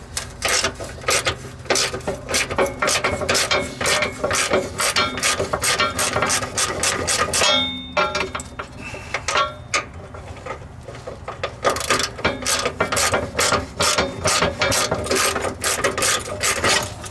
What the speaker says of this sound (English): I'll take 3 bolts off, and I'll tell you where they're at.